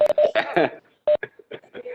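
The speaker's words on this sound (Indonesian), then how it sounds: "Ini ada notifikasi nih, Bapak Ibu." A notification chime from a Live Worksheet web app during an online teaching session, a short tonal beep pattern repeating a few times, clear and close.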